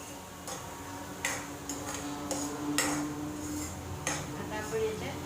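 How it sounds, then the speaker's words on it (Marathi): Two whole slit green chillies drop into a pan of cooking moong bhaji, giving several sharp clinks and ticks spread over a few seconds against a low steady background hum. "आता मी याच्यात या 2 अख्ख्या मिरच्या टाकते."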